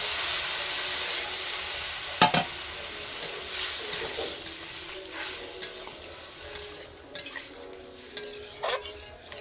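Coriander and fennel seeds fry lightly in a pan, giving a soft, steady sizzle broken by occasional sharp clicks of stirring against the metal.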